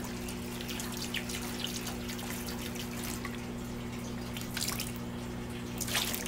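Liquid bloom fertilizer for tomato plants being poured into a container, giving soft trickling and dripping sounds over a steady low hum, with a few louder splashes near the end.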